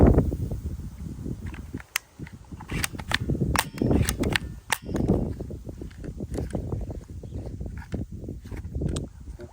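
A toy AK47 soft bullet gun fired repeatedly indoors, giving a series of sharp, snappy cap-gun-like pops in an irregular rhythm over faint handling rustle, fairly close and clear, with no talk.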